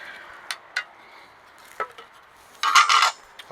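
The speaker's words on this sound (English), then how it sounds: "So I'm going to go ahead now and mix up my filler." Body filler stirred for trailer bodywork, heard as a few sharp scraping taps of a spreader against a hard surface, then a short burst of gritty scraping, close and alone.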